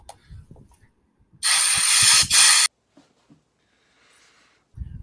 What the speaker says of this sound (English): Bat sleep spray.